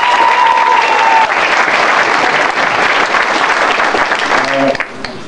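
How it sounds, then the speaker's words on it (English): Loud, sustained applause from a large crowd at a Gamma Iota Sigma roll call, with cheering and whoops mixed in, cutting off abruptly near the end as a voice starts. "give me a round of applause for VCU right now"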